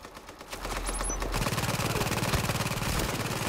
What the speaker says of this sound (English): See if maybe we're close enough to get some shots off.